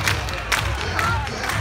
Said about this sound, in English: Good crowd on hand here